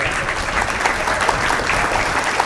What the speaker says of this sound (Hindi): आपकी तालियां बता रही हैं